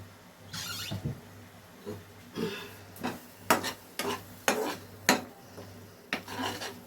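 Spoon scraping through a cabbage bhorta mixture in a pan, quiet, irregular bursts of rubbing and scraping strokes with short pauses between them, nearby and without speech.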